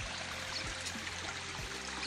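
River water flowing in a stream, a continuous gurgling trickle heard close by at a low, even level.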